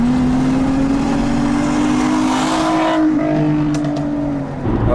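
A 2004 Nissan 350Z's engine drones steadily under load while driving in second gear with an automatic in manual mode, holding a sustained tone with slight pitch rises and dips before it eases off near the end.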